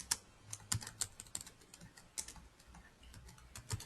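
Someone types on a computer keyboard while writing Java code. The quiet, uneven clicks come in small bursts and stand alone.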